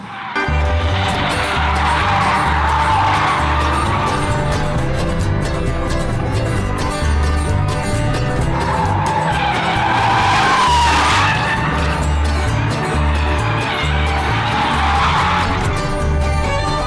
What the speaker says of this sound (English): Let's do some drifting.